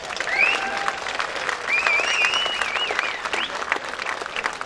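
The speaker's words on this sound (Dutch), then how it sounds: "ontvangt u hem als onze eerste artiest in dit programma met een geweldig applaus" Festival audience applauds warmly to welcome a singer as the first act, a sustained wash of clapping with a few whistles or cheers rising above it.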